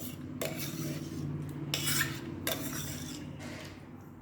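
A ladle or spoon scrapes cream from the inside of a pot while clarified butter is being made, giving repeated metallic scraping strokes in short bursts, close by, with no speech.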